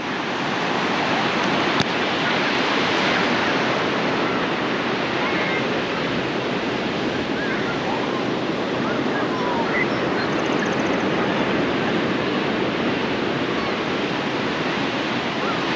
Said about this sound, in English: Not too many waves, everything's nice out there.